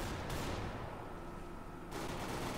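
Bursts of AK rifle fire in CS:GO Arms Race, dense rapid shots at the start and end with a quieter stretch between, fairly faint.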